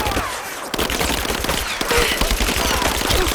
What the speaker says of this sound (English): We've got shots fired!